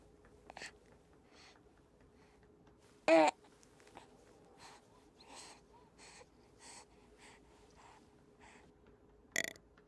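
A burp is heard while a full-body silicone baby is held and rubbed up the back, with one loud short burp, a second one near the end, and soft muffled rustling between them.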